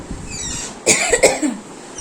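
A woman coughs twice in a quick, close burst during a hot, sweaty morning of household chores, with a faint background hum before and after.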